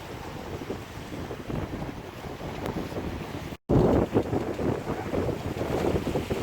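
Steady east wind buffeting the microphone aboard a sailboat at sea, with rushing water and waves beneath; a brief dropout midway, then the gusty roar resumes louder.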